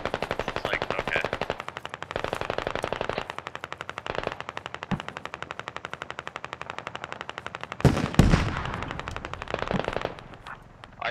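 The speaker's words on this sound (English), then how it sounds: "I did take a light fire, like maybe from an MG or small arms" Sustained machine gun fire in the video game Squad on the Yehorivka map, rapid rhythmic bursts running nearly continuously with brief pauses, plus a louder nearby blast or impact late in the sequence.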